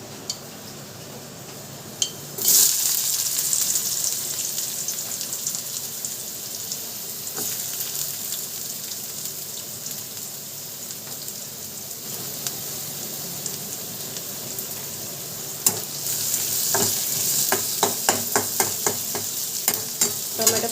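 Onion frying in a pan with green chilli garlic paste, a steady sizzle after the onion drops in, broken near the end by a run of quick stirring scrapes against the pan.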